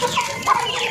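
A pumpkin-coloured mother hen in a backyard breeding setup gives a couple of short, close clucks over steady background chatter from other fowl.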